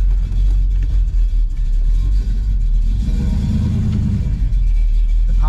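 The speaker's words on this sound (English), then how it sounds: "As far as our idle right now, we're running about 600 RPM" The V8 engine of a 1967 Chevelle SS idles close by at about 600 RPM with a deep, slightly choppy rumble that holds steady throughout.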